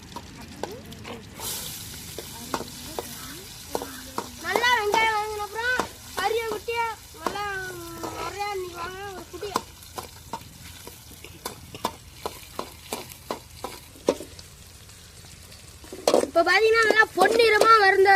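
Onions go into hot oil with cinnamon and cloves in a large pan for spicy salt chicken. Sizzling and frequent spoon clinks run throughout, with people talking over much of it.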